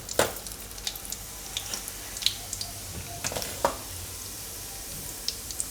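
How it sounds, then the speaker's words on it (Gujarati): Mustard seeds sizzle in hot oil for tempering a Gujarati brinjal-fenugreek curry, a soft frying hiss broken by scattered sharp pops and crackles. "તેલ ગરમ થઈ ગયું છે તેમાં થોડીક રાઈ નાખીશું"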